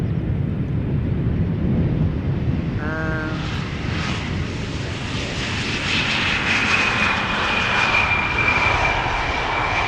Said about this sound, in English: This is KLM flight 962 arriving from Newcastle, Embraer 175.